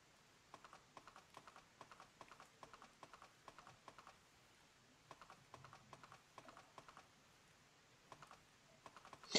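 Steady, light clip-clop of horse hooves in an even trotting rhythm, soft and fairly distant, with a brief pause midway, in the video game Harvest Moon: Friends of Mineral Town, on a rainy day.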